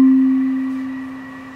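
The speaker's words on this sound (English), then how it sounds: "and you hit it with yarn mallets." A wooden marimba bar struck with yarn mallets, ringing out as one clear, resonant pitched tone that slowly decays, close and alone with no voices.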